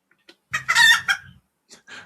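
A person imitating a chicken lets out a short run of vocal clucks, loud and close: a strong squawking burst followed by a couple of fainter clucks after a pause.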